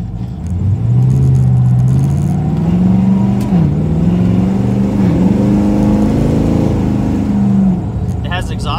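1996 Impala SS with a Gen V engine swap cruising at low revs around 1500 RPM, a steady, loud, close engine drone that rises and falls slightly with throttle, with a voice talking over it.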